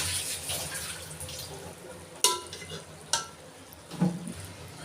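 Partly cooked rice spread in layers over keema in a pot, soft scraping and shuffling with a few sharp spoon knocks against the vessel, close and moderately quiet.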